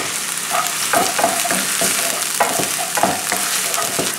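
Finely chopped onion and a garlic clove sizzle in olive oil in a frying pan, a bright constant hiss broken by rhythmic scraping stirs.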